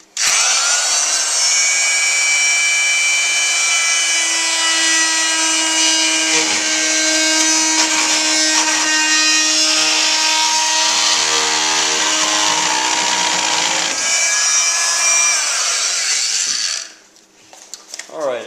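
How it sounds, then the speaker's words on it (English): An oscillating multi-tool fitted with a fine, hacksaw-like toothed blade cuts through PVC pipe, a loud, steady buzzing whine that runs continuously for most of the stretch before abruptly stopping near the end. "it's an oscillating type of tool that has very small, almost like hacksaw teeth on it, and that way it'll go down this PVC without having to cut or spin"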